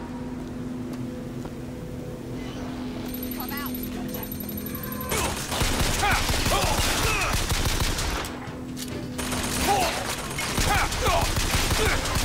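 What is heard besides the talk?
machine gun firing in video game Bioshock Infinite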